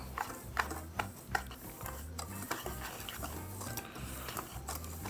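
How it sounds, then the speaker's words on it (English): Whisking all-purpose flour and cornmeal in a bowl for corn dog batter, quiet rhythmic clinks and scrapes of the whisk against the bowl repeating at about one per second, close and faint. "Let's give it a little whisk here."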